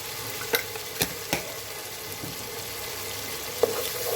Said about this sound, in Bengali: এই মশলাটা আমি খুব ভালোভাবে কষিয়ে নেব